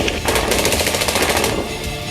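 Gunfire along the India–Pakistan border in Jammu and Kashmir during a ceasefire violation with a BSF response, heard as a rapid, loud run of automatic shots with no talk over it.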